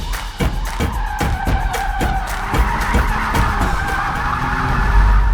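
An Audi RS5 Avant oversteers with its tires skidding, a loud, sustained squeal over a steady engine roar, broken by rhythmic thumps from the car moving across the surface.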